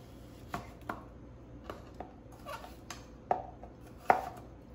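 A Cutco kitchen knife cuts through food on a board in a few sharp, separate chops with short pauses between them, close by and fairly quiet, with no one talking.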